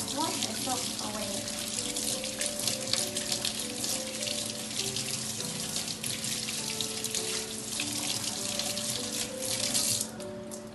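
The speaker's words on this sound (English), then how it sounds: "After that, wash the soap away." Tap water runs steadily into a sink as soap is rinsed off hands, a continuous close splashing flow with a soft voice speaking over it.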